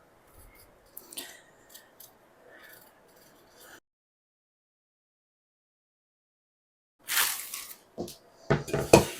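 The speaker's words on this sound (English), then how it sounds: "we're going to peel some russet potatoes" Russet potatoes being peeled for a pierogi filling, a run of soft scraping strokes that stops, then returns after a pause as closer, louder rasping scrapes, with no talking.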